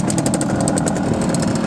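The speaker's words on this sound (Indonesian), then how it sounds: "Suaranya juga halus untuk mesin 2 tak." A 1973 Suzuki A100 two-stroke motorcycle engine idles steadily up close, a smooth buzzing putter with a fast, even pulse and no other sounds.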